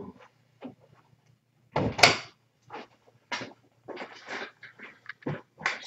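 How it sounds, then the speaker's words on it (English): An indoor door is pushed shut with one solid thud near the middle, then followed by a scatter of lighter knocks and clicks from the room. No one speaks. "Give me one second. Let me shut the door."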